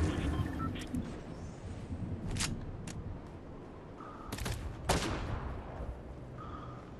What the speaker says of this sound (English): That's your guy shooting a boar